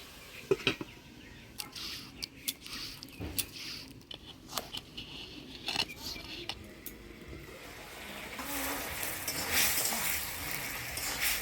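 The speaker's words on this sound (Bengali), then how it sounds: "মশলার সাথে পালং শাকটা ভালো করে নাড়াচাড়া করে নিলাম" Spinach is stirred with spices in a frying pan, the spatula scraping and tapping in short clicks, then a soft sizzle swells toward the end; a voice speaks over part of it.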